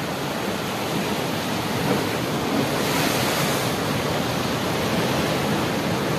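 Sea waves wash constantly against a rocky shore near a coastal shrine, a loud, unbroken surf roar with wind buffeting, no talking throughout.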